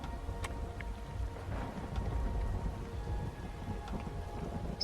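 Rain from an Unreal Engine particle effect falls as a steady soft patter with scattered sharper drop ticks, moderately quiet and continuous, with a low rumbling undertone.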